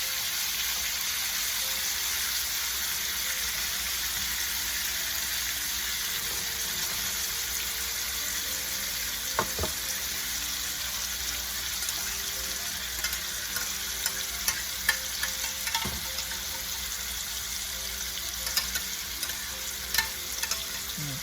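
Apple-stuffed pork chops frying in a pan, a steady soft sizzle running throughout with occasional light clicks and stirring sounds, no talking.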